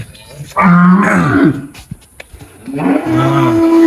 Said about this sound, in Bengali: সব গরু ডাকা শুরু করে দিচ্ছে, নতুন গরু দেখে সব ডাকা শুরু করে দিচ্ছে